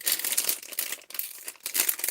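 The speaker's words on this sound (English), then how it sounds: "I gotta rip it open a little bit more" Plastic blind-bag packaging of a Marvel collectible minifigure being ripped and crinkled open, a continuous close crackle with several bursts of tearing and brief pauses, with no talking.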